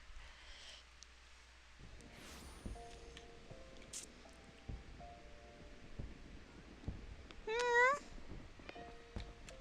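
A pet cat meows once in a short rising, wavering call, fairly close, over quiet room noise and scattered soft tones from a game.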